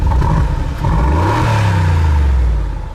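A Mercedes G500 4x4 Squared engine revs hard up and down, its deep exhaust rumble rising and falling close by with no talking.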